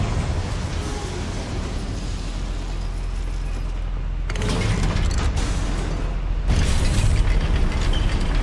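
Confringo spell blasts in the Hogwarts Legacy video game inside a goblin mine, with two sudden booming bursts over continuous rumbling game ambience.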